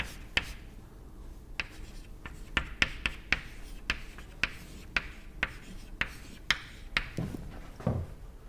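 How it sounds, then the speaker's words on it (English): Lecturer writing equations by hand on a board, chalk or marker taps and short strokes coming in irregular bursts close by, with no speech during the writing. "Let me write it in index form"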